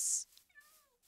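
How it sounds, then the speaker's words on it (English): A Siamese cat in the Minecraft video game gives one short, clear meow after a brief burst of other game noise. The meow is fairly soft and close, with no talking. "Oh, there's another kitty over there."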